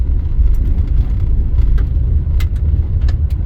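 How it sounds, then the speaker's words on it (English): A car rolls along a gravel road, heard as a steady, loud low rumble with faint crackling crunches of stones throughout. "we're driving on gravel"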